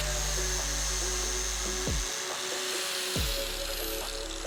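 An angle grinder cuts bevels into the end of a steel pipe for a transmission crossmember, a loud, steady high whine that drops off twice as the tool is lifted and spun back up.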